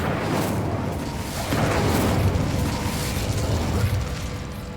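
An Incendio fire spell cast in the video game Hogwarts Legacy bursts out as a rough, rumbling whoosh of flame that swells and fades across several seconds, loud and close.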